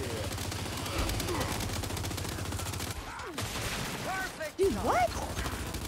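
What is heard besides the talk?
gunfire in the video game Gears 5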